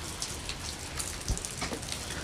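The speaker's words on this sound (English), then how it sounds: "I know it's raining." Rain falls outdoors as a steady patter of drops on surfaces, with a few sharper splats and a soft low bump near the middle, all moderately quiet and with nobody speaking.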